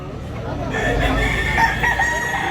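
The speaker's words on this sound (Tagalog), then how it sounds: "Daming manok." Roosters crow at a busy chicken market in Tabunok, Talisay, Cebu, one loud nearby call stretching across the moment over a constant crowd and farmyard hubbub.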